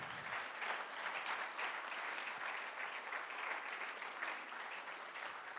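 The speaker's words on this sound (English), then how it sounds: "Let's please give them all a round of applause." Sustained, dense applause from an audience at a Guide Dogs for the Blind class graduation ceremony, a steady wash of many hands clapping that runs the whole length without letting up.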